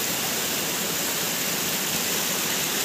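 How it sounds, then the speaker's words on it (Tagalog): A shaded river runs with a loud, steady rush of water, broadband and unbroken throughout, with no voices. "So, ilog lang siya, running water."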